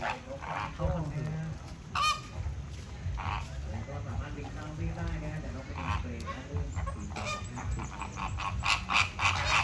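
Flamingos give repeated nasal, goose-like honks in short bursts, fairly close, over a background of calls from the flock. A person talks intermittently.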